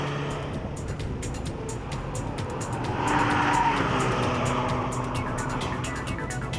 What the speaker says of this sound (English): On the test track, lane changes and how the tyre responds can obviously be tested dynamically